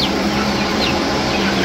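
Chickens cluck and call steadily in a mixed farm flock kept alongside geese, a dense, continuous bed of overlapping bird sounds close by with no talking.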